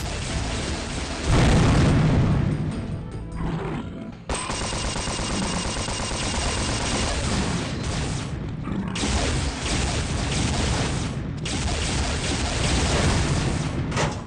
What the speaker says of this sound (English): I want to say those are exploding barrels.